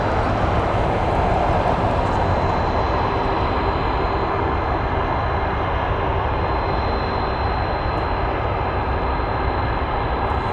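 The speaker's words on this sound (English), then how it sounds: "we have a Hercules taxiing to the runway" A Lockheed C-130 Hercules taxis toward the runway, its turboprop engines a loud, constant droning roar with a faint high whine, steady throughout.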